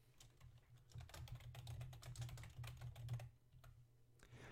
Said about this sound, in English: so I'm going to type in Pinterest Marketers.